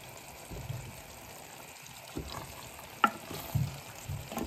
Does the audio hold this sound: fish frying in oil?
yes